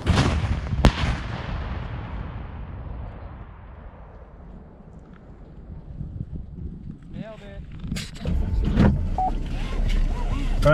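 Shoulder-fired rocket launcher firing with back blast, one sharp loud boom followed by a long fading rumble, then voices and background noise.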